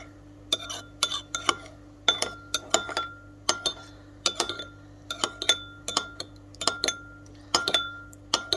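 A spoon clinks repeatedly against a glass bowl while saffron, honey and butter are stirred together, bright irregular taps close by over a faint steady hum.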